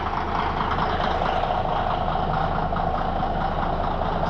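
Caterpillar diesel engine idling low and steady, a close, continuous rumbling throb with an even pulse and no voices.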